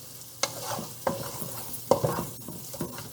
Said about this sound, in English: So I'm just stirring it